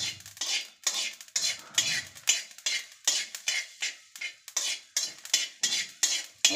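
A spoon stirs fenugreek and mustard seeds frying in a pan over a medium flame, scraping the metal in quick, regular strokes roughly twice per second, close and clear.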